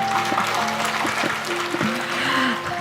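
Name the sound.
audience clapping hands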